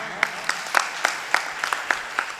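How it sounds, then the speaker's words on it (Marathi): Sparse, faint applause from a small audience at a Marathi kirtan, with about ten separate claps spaced unevenly at a distance and no steady roar of clapping. "त्यांच्यासाठी टाळ्या वाज."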